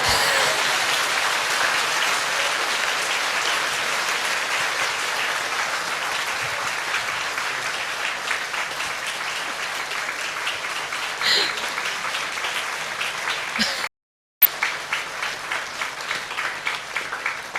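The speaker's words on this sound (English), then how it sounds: "you can clap because it makes him feel like a star." An audience claps as a Buddhist monk is invited to the front of a talk: sustained, even applause for about fourteen seconds, a sudden brief silence, then a short final burst.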